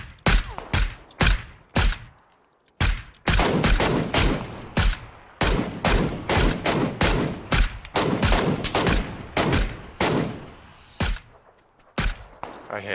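Rapid gunfire from a PUBG match on the Erangel map, loud volleys and single cracks in bursts across the whole stretch, close and punchy with short gaps.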